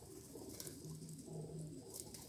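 Pigeons coo softly and a little distantly, two or three low rolling calls over faint background hiss, with no one talking.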